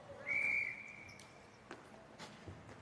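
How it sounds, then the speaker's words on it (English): A referee's whistle sounds once at a ball hockey game, a single sharp, shrill blast of about half a second, followed by faint, scattered knocks and rink noise. "Oh, we got a whistle."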